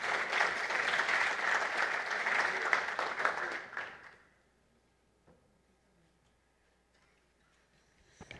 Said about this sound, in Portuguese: Uma salva de palmas para a Elaine.